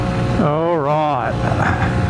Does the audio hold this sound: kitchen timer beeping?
no